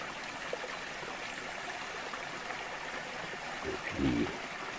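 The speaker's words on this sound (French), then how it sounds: "Vous voyez, ça coule bien." A small stream in the Ardennes flows steadily with a continuous close rushing and trickling, joined near the end by a brief low gurgle.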